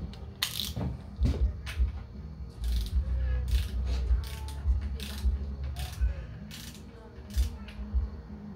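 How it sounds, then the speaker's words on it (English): Ratcheting wrench clicking in quick bursts while snugging a pickup tube bolt fitted with a new O-ring on a supercharged 392 Hemi engine, with light metallic taps and clinks between strokes, close and fairly quiet. "Run it down, then we'll torque it 21 foot-pounds."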